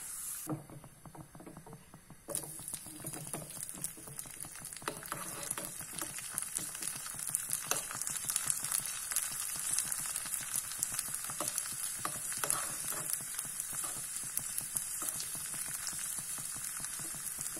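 Raisins sizzle and crackle steadily in hot ghee, a dense, close frying patter that continues throughout with no talking.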